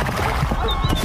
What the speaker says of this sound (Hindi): तभी वहाँ पर कलुआ डाकू अपने साथियों के साथ घोड़े पर बैठकर आ गया।